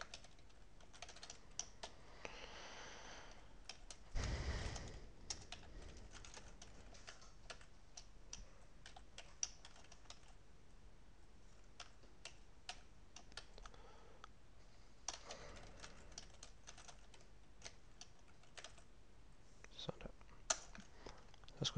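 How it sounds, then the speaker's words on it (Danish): Rapid, light clicking of a computer keyboard as a differential equation is typed in, a quiet, irregular stream of keystrokes running through the whole stretch with brief pauses and soft, muted speech. "Vi tager differentialligningen herover, og så er det ellers bare med at taste ind."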